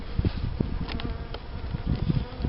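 Honey bees buzz steadily around a beehive, a close, dense drone with individual insects passing near and away, with no voices.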